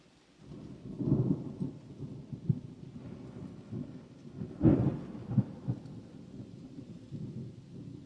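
Thunder rolls through a rainstorm as a cyclist rides in the rain: low, rumbling peals swell and fade, with one louder crack near the middle, over a steady wash of rain and no talking.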